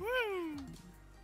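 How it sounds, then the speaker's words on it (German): A cat in the game Minecraft gives a single clear, falling meow, fairly close, followed by faint background sounds. "Da hat gerade eine Katze miaut."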